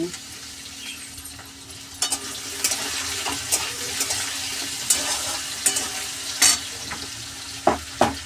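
Potatoes sizzle in hot oil in a pan, a continuous crackling fry broken by several sharp clacks and scrapes of stirring, close and clear, with no talk.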